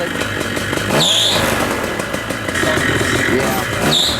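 A Minari 180 Miniplane paramotor engine runs loud and close with a rough, buzzing drone, while a high belt squeal rises in short bursts twice.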